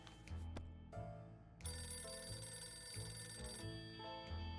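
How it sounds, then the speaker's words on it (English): Telephone ringing in the survival game 60 Seconds, repeated electronic bell rings in bursts with short gaps, clear and fairly faint with no talking over it. "Why do I hear a phone?"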